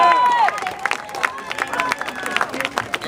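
A crowd at a veterans march at Valley Forge Park applauds and cheers outdoors, with clapping mixed with babble and a voice in the crowd, steady and fairly loud throughout.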